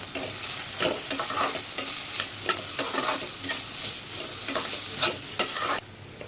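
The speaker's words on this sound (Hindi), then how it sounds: "अब हम इसमें बारीक कटा हुआ आलू डाल देंगे और इसे अच्छे से भून लेंगे।" Finely chopped potato and onion fry in a pan, keeping up a steady crackling sizzle with rhythmic spatula strokes roughly every half second, nearby and with no speech, until the sizzle drops off near the end.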